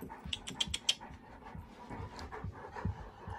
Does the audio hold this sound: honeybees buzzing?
no